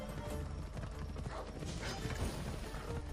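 A horse in the video game Assassin's Creed Odyssey clip-clops steadily amid busy mechanical game noise, hooves thudding in a continuous rhythm.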